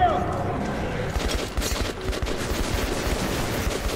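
Rapid gunfire in the video game Metro 2033 Redux, dense overlapping shots and bursts rattling throughout, with voices mixed in.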